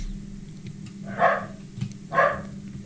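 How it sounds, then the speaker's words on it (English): Pet dogs barking indoors at home, two short muffled barks about a second apart, somewhat distant, over a faint steady background hum. "That's my dogs"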